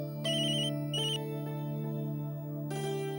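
A telephone ringtone sounds in a home during a Tamil family drama, a loud electronic melodic ring with repeating bursts over a steady tone, heard alone with no talking.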